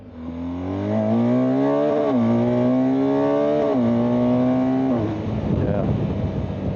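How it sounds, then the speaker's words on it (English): A BMW R1250GS motorcycle engine revs hard and close, its tone climbing in repeated pulls up to the rev limiter before dropping back to a rough idle; no talking. "I hit the rev limiter on that one"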